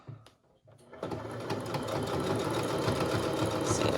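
A sewing machine runs small zigzag stitches over a pipe cleaner while making a face mask, starting with a few clicks and brief starts, then settling into a steady, fast mechanical whir that holds close and even.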